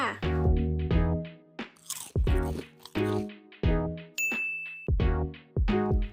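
Freshly picked oranges from an orange farm are bitten and eaten, with loud close crunchy bites and juicy chewing repeating in a steady rhythm, alongside ringing metallic tones.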